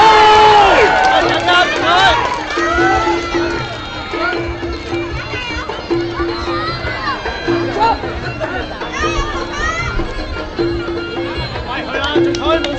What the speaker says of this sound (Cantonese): 大家千祈唔好吝嗇你哋嘅歡呼聲同埋掌聲啊！